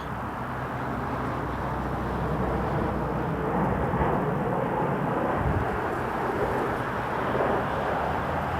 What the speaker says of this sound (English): we'll head over for a Jazz Embraer 175 from JFK.